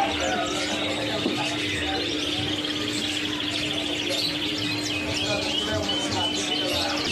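Cucak hijau songbirds chirp and twitter in a busy bird market, bright overlapping calls over a steady background hum and murmur.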